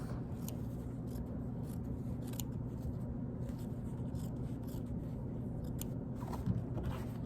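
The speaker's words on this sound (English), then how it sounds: "I'm going to trim the bottom one in half" Scissors trimming one layer of a fabric seam allowance in half at a costume workroom table, giving a series of crisp, close snips spaced irregularly over about seven seconds above a steady low room hum, with no talking.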